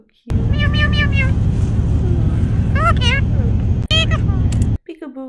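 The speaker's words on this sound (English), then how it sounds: "Meow, meow, meow, meow." Cat meowing in a series of loud, close, drawn-out calls over a steady low engine-like hum, with a voice talking briefly around them.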